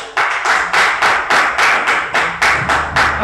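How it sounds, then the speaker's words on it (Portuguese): A church congregation applauds together, producing a steady run of sharp, fairly loud claps in a regular rhythm for a few seconds, with no one speaking over them. "Você pode aplaudir o Senhor nessa noite?"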